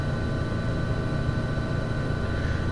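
Helicopter rotors in Microsoft Flight Simulator X give a continuous, dense engine-and-rotor drone, steady and fairly loud throughout with no voices.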